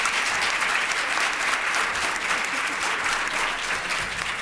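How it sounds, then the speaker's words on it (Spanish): Audience applause for a Peruvian novelist at a book presentation during the Guadalajara International Book Fair, a dense, steady wash of clapping that stays loud and even throughout with no voices over it. "Así que un aplauso para nuestro autor."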